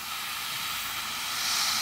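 An Evolution airbrush sprays paint over black primer on a MikroMir K Class submarine model, giving a steady, close airy hiss that swells slightly toward the end.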